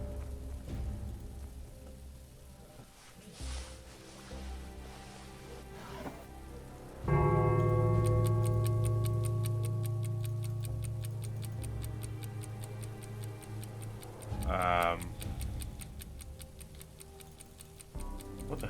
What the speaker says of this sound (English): It's as though someone tried washing an alarm clock.